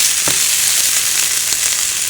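Spinach for a low-carb breakfast pizza cooking down in a hot pan, giving a loud, steady, close sizzle for about two seconds, alone.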